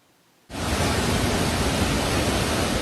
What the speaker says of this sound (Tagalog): Malakas ang pagragasa ng agos sa ilog na ito sa Sitio Hagimit, Davao Oriental dahil sa pananalasan ng bagyong kabayan.